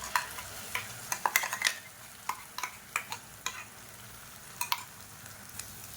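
Onions and ground chutney paste fry in oil in a pan, with a soft steady sizzle broken by a dozen or so sharp scraping stirs at an irregular rhythm, close and fairly quiet.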